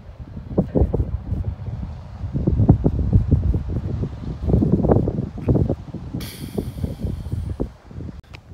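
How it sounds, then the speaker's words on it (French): Strong wind in the Swiss Alps buffets the microphone in uneven gusts, a continuous rumbling roar with a brief hiss near the end. "il y a du vent hein"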